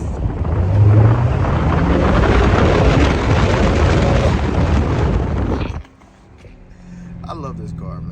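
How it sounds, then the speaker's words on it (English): A BMW 650i engine with a cold air intake rumbles loudly with low exhaust burbles and pops for several seconds, then cuts to quieter idle. "Got the little baby burbles."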